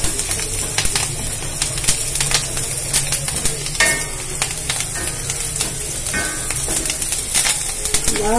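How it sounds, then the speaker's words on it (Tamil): Onions sautéing in a pan for a Tamil cluster bean usili dish give off a steady, close frying sizzle, broken by scraping stirs. No one talks. "வெங்காயம் வதங்கினா நல்லா வாசம் கொடுக்கும் சமையலுக்கு. அதனாலதான் நல்லா வதக்குறது."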